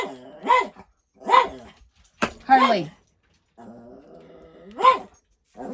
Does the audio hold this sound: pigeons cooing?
no